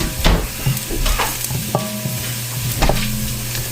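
Garlic sizzles steadily in a hot pan, with a constant crackling fry and occasional scraping stirs of a utensil, close and fairly loud.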